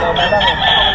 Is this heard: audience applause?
no